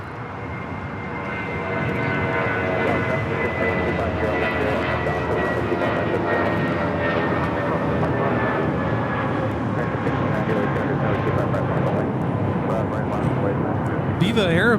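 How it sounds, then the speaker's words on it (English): A Viva Aerobus Airbus A320 takes off at Los Angeles airport, its jet engines building to a loud, sustained roar with a rising whine that stays strong through the clip. "Viva Airbus, Flight 511, taking off to Guadalajara on the A320"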